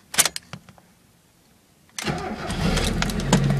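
A Mazda MX-5 Miata with a 5-speed manual gearbox: a few clicks and a brief quiet pause, then the engine cranks and catches, settling into a steady close idle that grows slightly louder.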